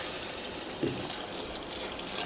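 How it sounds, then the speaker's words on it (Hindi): Water poured from a glass into a pressure cooker of browned potato curry, a steady, close liquid pour with a brief gush partway through, no talking. "ये देखिए मैं इसे पानी डाल रही हूँ।"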